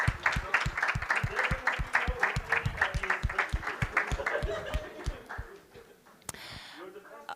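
An audience at an SAP Inside Track community event in Yerevan claps for the first, second and third place winners: a steady, fairly rhythmic round of hand claps with a few soft chuckles, tapering off toward the end.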